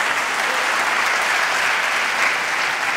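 Dense, continuous clapping from England teammates standing at the back of the court at a badminton match, close and loud without a break.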